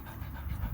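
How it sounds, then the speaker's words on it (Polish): A dog panting close by, rapid steady breaths with a soft huffing rhythm through the whole moment. "A tak mój piesek dyszy"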